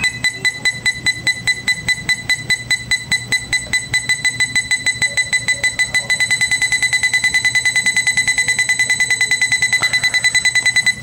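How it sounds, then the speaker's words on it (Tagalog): A car's aftermarket eight-sensor parking sensor buzzer beeps in a fast, regular series of sharp tones that quicken further toward the end into an almost continuous rapid beeping, loud and close. "Tapos habang mas lumalapit, mas bumibilis yung tunog ng buzzer."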